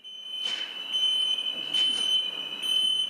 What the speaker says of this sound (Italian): Scatta l'allarme acustico e visivo